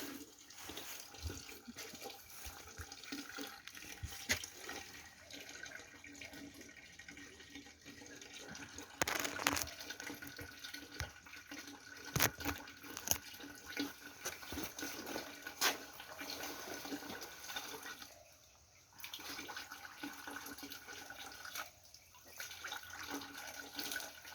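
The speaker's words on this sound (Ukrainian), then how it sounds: "Гірна річка тече." A mountain river in a forest rushes and gurgles continuously, a steady moderately loud flow with small splashes throughout.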